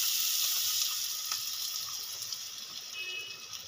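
Water poured into a pan of mustard-paste curry with chopped coriander: a bright steady hiss and gush of liquid that eases off over a few seconds, close, with no voices.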